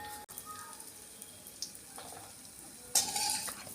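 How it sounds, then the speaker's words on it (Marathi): Cashews roasting in ghee in a pan while making gond laddoo, a soft, quiet sizzle that swells into a brighter burst near the end, heard close with no talk. "आता यात काजू टाकून काजू पण भाजून घेऊ आपण"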